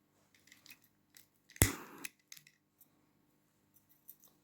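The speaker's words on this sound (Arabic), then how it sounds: "قص حتة خيط زيادة" Scissors give one crisp close snip through a piece of excess crochet yarn, surrounded by faint small clicks and handling noises in a quiet room.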